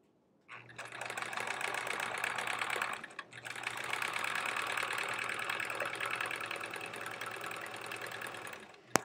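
Sewing machine stitching quilt pieces together in a steady continuous whir, pausing briefly once before running on, close and alone with no talk.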